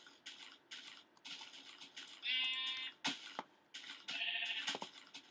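Sheep in the Minecraft video game bleat in two clear, wavering calls amid soft scratchy background noise.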